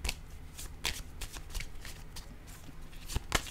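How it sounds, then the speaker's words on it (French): Tarot cards are shuffled and drawn by hand, with close riffling and sharp flicking snaps scattered through a steady papery rustle, and no voice. "Je vais piger une carte au hasard, on verra bien."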